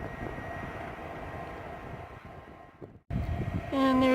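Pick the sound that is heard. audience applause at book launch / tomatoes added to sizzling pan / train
train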